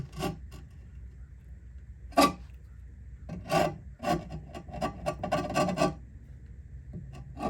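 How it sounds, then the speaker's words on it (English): Gasket sealer being scraped off the inspection cover of a 1924 Model T: short dry rasping strokes, a few isolated then a quick run of them, close and fairly quiet. "Get that gasket sealer off there."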